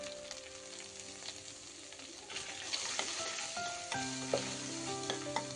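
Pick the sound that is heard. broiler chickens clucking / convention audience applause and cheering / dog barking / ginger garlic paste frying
ginger garlic paste frying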